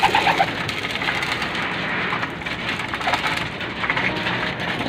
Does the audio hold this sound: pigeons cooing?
yes